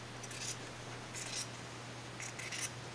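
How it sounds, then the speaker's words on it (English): Scissors cut the selvage off printed double gauze quilting fabric, giving three faint, close clusters of crisp snipping over a quiet background hum. "I'm using scissors here"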